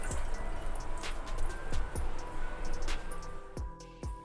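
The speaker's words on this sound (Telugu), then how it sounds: "ఇప్పుడు పైనుంచి చల్ల నీళ్ళు పోద్దాము" Cold water is poured over cooked vermicelli in a strainer. A steady close splashing stream runs through it, with scattered drips and trickles.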